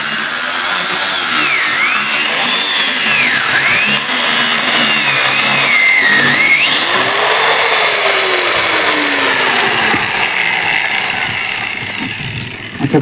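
A motor-driven drilling machine runs loudly and steadily for a long stretch, its pitch rising and dipping as it bores, then winding down near the end.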